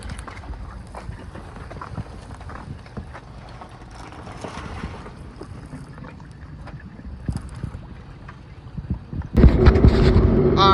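A jet ski engine runs rough out on open water on a cold winter day, its uneven mechanical drone steady and close, then swelling into a louder, harsher burst near the end.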